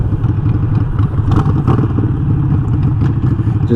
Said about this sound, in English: Just getting the engine a little bit warmed up.